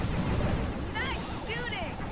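A few sharp gunshots crack out during a firefight in Sly 2, brief and punchy against a busy game soundscape with voices talking over them.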